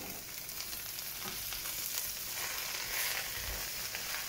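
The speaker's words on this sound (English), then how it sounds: "We just want to cook it down a little bit and mix it with the garlic." Spinach wilting with garlic in a hot pan gives a steady, close hiss of sizzling that holds evenly throughout, with faint scattered crackles and no voices.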